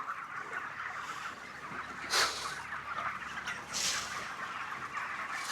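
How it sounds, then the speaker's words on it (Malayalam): A flock of chickens at a poultry farm makes a steady low chatter of clucks, with a couple of louder squawks standing out above the continuous background din. "ഈ ഭാഗത്ത് കുറേ കോഴി ഫാമുകൾ പ്രവർത്തിക്കുന്നുണ്ട്"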